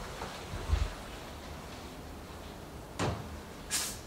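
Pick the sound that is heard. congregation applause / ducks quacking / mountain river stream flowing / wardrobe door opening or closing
wardrobe door opening or closing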